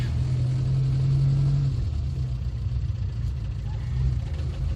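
A modified Mini car's engine hums steadily with a low rumble throughout, rising slightly in pitch as it pulls along, close and fairly loud.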